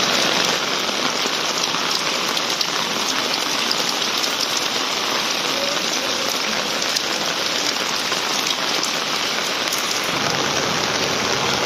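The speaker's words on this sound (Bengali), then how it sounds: "এত পরিমাণ বৃষ্টি হচ্ছে যে ছাতাতেও মানতেছে না" Heavy rain pours down steadily, a dense, continuous hiss of drops drumming on surfaces that stays loud and unbroken throughout, with no voices.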